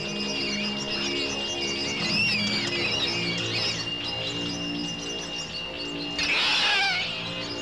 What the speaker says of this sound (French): On dirait un chat.